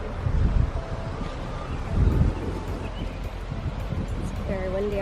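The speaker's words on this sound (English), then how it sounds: "It's very windy out here." Wind buffets the microphone on a farm in low, rumbling gusts, strongest in a couple of bursts, with faint background sounds underneath.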